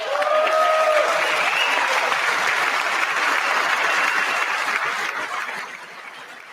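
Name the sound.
applause in Congress at the State of the Union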